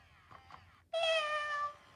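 An electronic meow from a Moose Toys Little Live Cuddles My Dream Kitten toy, a single drawn-out synthetic cry with a thin buzzy tone, preceded by faint clicks and followed by a sharp knock at the end.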